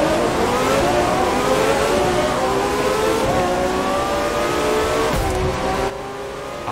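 A car accelerating hard at the start of a race in The Crew 2, with a loud, steady engine roar whose pitch climbs through the gears, plus a brief drop near the end.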